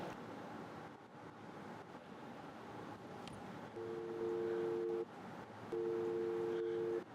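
A telephone ringback tone on a call: two long, steady electronic ring bursts with a pause between them, heard over a constant windy hiss.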